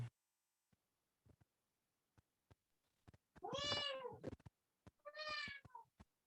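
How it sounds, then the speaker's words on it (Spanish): Two distinct cat meows, the first longer and drawn out, the second shorter, sounding close and clear against a quiet background with a few faint clicks. "Qué gatito"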